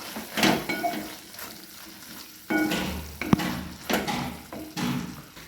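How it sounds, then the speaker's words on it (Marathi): Ivy gourd (tondli) sabzi with freshly chopped coriander is stirred in a pan, giving a soft steady sizzle broken by several louder scraping bursts from the spoon. "मिक्स करून घेऊया."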